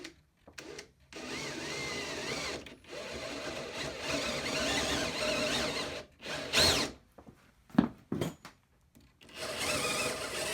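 A power drill bores a hole into a clamped wooden chair leg during restoration, whining steadily in several long bursts with short pauses and a few brief stops near the end, with no talk over it.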